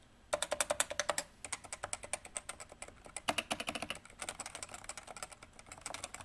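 Fast, steady typing on a Cooler Master Novatouch TKL keyboard with Topre switches at a uniform 45 gram weighting, close up, giving a dense run of soft, muted key clacks that pause briefly now and then.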